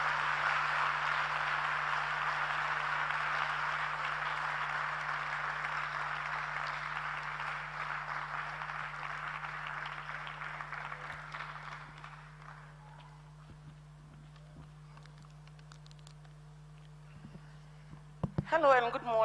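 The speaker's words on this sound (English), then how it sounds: "Please give her a warm round of applause." Sustained audience applause welcoming a speaker at a youth dialogue session in Ghana, a steady dense wash of clapping that gradually fades out after about twelve seconds, leaving quiet room hum and a few footsteps or shuffles near the end.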